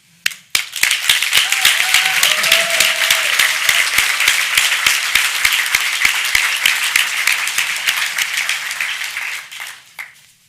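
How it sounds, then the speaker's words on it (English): Loud, sustained applause from an audience, with many hands clapping densely for about ten seconds before it tapers off and stops. "Please give them an extra loud round of applause so that they can hear you."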